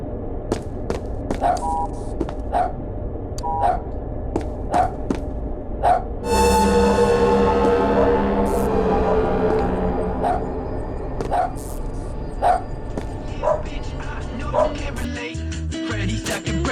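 The developer's dog barks in SCP Observer, a run of sharp, loud, evenly spaced barks over game noise, with a sustained tonal swell in the middle.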